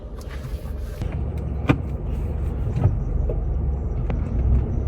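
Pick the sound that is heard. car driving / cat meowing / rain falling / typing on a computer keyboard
car driving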